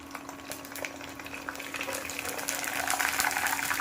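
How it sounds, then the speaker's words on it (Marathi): Sago pearls (sabudana) frying in hot oil give a steady crackling sizzle that builds in loudness over a few seconds, close and continuous with no talk. "हा साबुदाणा तळून पाहूया."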